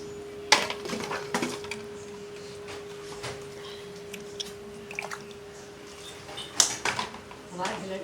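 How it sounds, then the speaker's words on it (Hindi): Dishes, pots and pans are washed by hand in a home kitchen, with scattered clinks and clatters of metal and crockery over a faint running hum, quiet and intermittent; someone talks at times. "मैं बर्तन धोने आ गई हूँ।"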